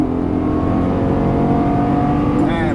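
A Lamborghini Gallardo LP550-2 engine pulling hard at full throttle on a racetrack: a loud, close, continuous roar thick with layered harmonics that holds steady throughout, with a brief voice-like sound breaking in just before the end.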